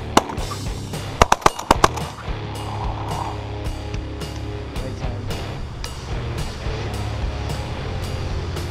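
Shotguns fire during a pigeon hunt, with a quick cluster of sharp, loud blasts near the start followed by fainter repeated pops spaced further apart over steady outdoor background noise.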